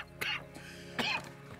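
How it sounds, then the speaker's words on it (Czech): A character coughs in Red Dead Redemption 2, with two short rough bursts about a second apart and a brief quieter catch between them, close and fairly loud over a faint steady background hum. "ten kašel, to je čím dál horší"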